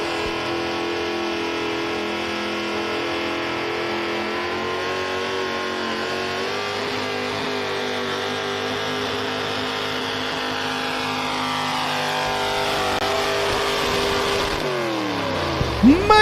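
A Chevrolet-powered pulling truck at a tractor pull at the Big Butler Fair in Prospect, Pennsylvania, revving loud and sustained, its engine pitch climbing steadily before a sharp change near the end.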